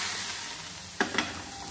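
Chili powder hits hot oil with popped mustard seeds for a Kerala curry, giving a soft steady sizzle with two brief sharp crackling bursts near the end.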